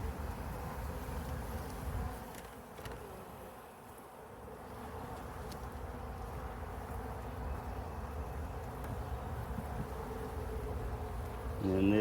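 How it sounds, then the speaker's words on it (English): Honeybees in an open hive box, being worked to check the comb for eggs, make a continuous close drone. It stays fairly quiet and steady throughout, dipping briefly near the middle and swelling slightly at the end. "There's a lot of bees in here."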